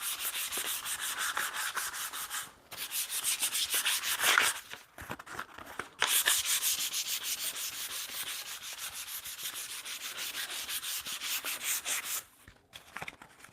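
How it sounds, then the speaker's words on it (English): Wood surface being wiped down with a rag soaked in mineral spirits to lift sawdust, a steady close rubbing and swishing that runs in long strokes with a few brief pauses. "I'm going to wipe it down to get the sawdust off"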